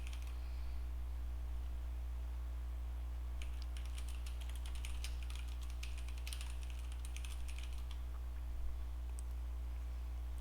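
Quick, light keystrokes clatter on a computer keyboard in a short burst, over a steady low electrical hum in a quiet room.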